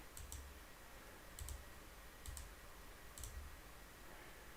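A computer mouse clicks in quick double clicks, about four pairs spaced roughly a second apart, faint and close against a steady background hiss.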